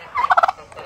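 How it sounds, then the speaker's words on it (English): A young male turkey gives one quick, close gobble, a burst of rapid rattling notes lasting under half a second and then fading out. "the dude gobbled at me"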